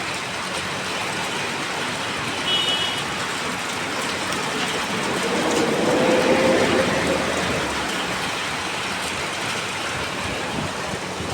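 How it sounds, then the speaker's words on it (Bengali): Steady rain falls outdoors as a continuous, fairly loud wash of drops with no break, swelling slightly midway, with no talking. "এই যে বৃষ্টি খুবই ভালো লাগে আমার কাছে, আমার বৃষ্টি খুব পছন্দ।"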